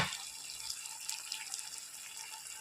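Cornflour mixed with water poured into a pan of prawn chilli, a continuous bright, hissy watery rush, fairly faint and close, with no talking.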